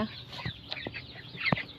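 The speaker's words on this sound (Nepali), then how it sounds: "यो मेरो सानो ब्रोइलर कुखुरा" Month-old broiler chickens in their coop give a few soft, close clucks over a quiet background.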